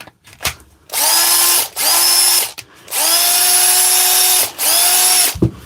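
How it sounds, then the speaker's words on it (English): A repaired DeWalt cordless drill spinning up in four bursts, each a steady high whine that winds up and cuts off, close and loud with short gaps between runs. "I'll just get the drill and see if it goes"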